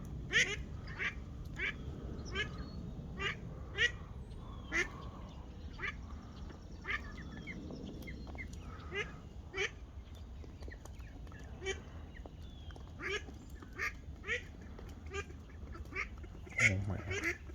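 Several ducks quack in irregular bursts throughout, fairly close, over a constant low hum and some faint background noise.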